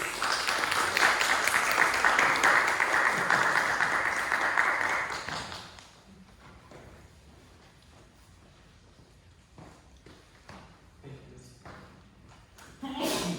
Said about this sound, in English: A solemn applause, please